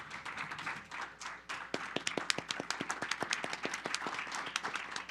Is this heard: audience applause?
yes